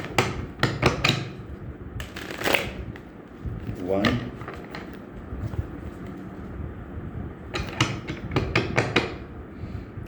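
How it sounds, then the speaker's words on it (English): A tarot deck being shuffled by hand: quick, crisp papery riffling bursts come in clusters near the start and again toward the end, with a voice talking between them. "So let me take 3 shuffles and then I'll start pulling."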